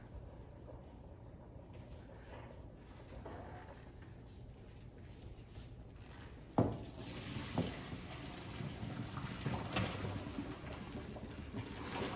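Running water from a faucet splashes into a sink as cooked lasagna noodles are drained in a strainer, a steady wash with a clattering thump partway through.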